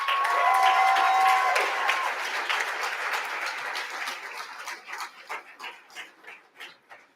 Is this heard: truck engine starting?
no